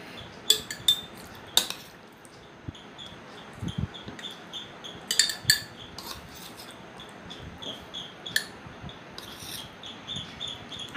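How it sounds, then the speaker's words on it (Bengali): A metal spoon clinks and scrapes while raw mango pickle, sweet, sour and spicy and made with the peel on, is spooned into a storage jar, giving scattered sharp taps and rubbing sounds over a quiet room. "এটাকে এখন আমি একটা বয়মের মধ্যে ভরে নেব।"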